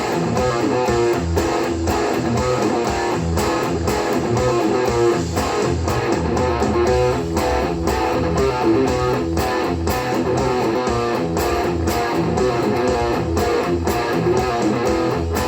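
A distorted metal guitar riff is played as a steady groove, dense and loud throughout with a rhythmic, chugging pulse and no talking over it.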